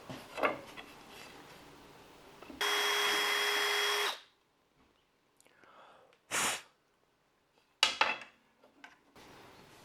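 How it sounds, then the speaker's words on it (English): A power drill pre-drills a hole in a snug-fitting piece of wood made for a table saw miter slot, a loud steady whir of about a second and a half between soft handling noises and quiet, close speech. "we want to pre-drill a hole in here"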